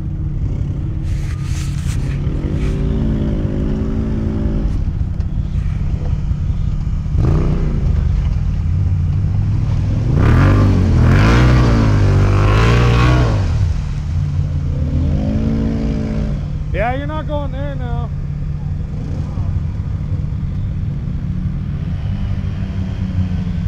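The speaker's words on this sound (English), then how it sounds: "Does he have more than one tire spinning?" Car engine revving hard with rising and falling pitch as tires spin, loud and close, a steady rumble underneath with repeated surges.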